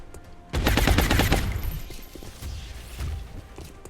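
Heavy gunfire from the XCOM Long War video game: a loud, dense burst of rapid shots that rattles for about a second, then gives way to quieter mechanical clatter and scattered thuds.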